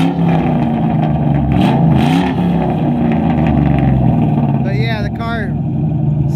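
A 4.6-litre Ford Mustang GT engine fitted with a PI swap idles loudly up close and blips into short revs, its deep rumble rising and falling, while people talk over it.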